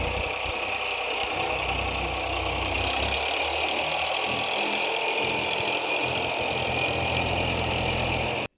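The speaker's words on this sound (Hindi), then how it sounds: "उन्होंने स्वयं ट्रैक्टर चलाकर करीब 2 एकड़ खेत को रोपा लगाने के लिए खेत तैयार किया" A tractor engine runs steadily as a rice paddy field is prepared for transplanting, giving a continuous, close, droning mid-pitched rumble with faint knocking and no voices.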